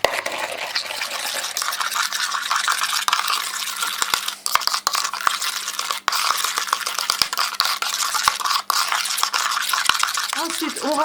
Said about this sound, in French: Ensuite, on rajoute un œuf. Et on continue de bien mélanger.